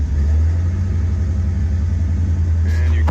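A cold fuel-injected car engine, with a noisy lifter, runs just after starting, giving a deep, steady, heavy rumble close by that carries through without a break.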